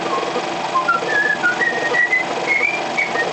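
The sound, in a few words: man whistling a happy tune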